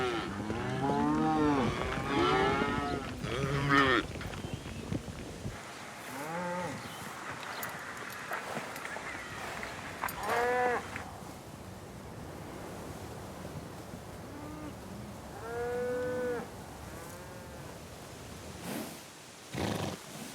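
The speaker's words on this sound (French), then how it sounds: "la grande majorité des chevaux sert encore à garder les troupeaux de vaches." A herd of cattle on an American ranch, with repeated long, drawn-out moos from several animals, some close and some farther off, over a constant rushing background of wind or surf.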